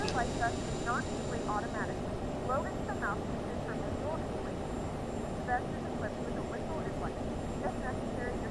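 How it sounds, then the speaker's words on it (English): In Microsoft Flight Simulator, the right jet engine of a CRJ-700 airliner starts up as a steady, fairly quiet broadband roar, with faint chirping tones riding on top throughout. "start the right engine"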